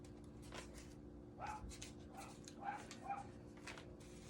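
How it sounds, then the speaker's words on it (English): A neighbor's small dog yapping next door, heard as a few short, fairly faint barks in scattered bursts over a steady low background hum. "there's a next door neighbor yapping dog"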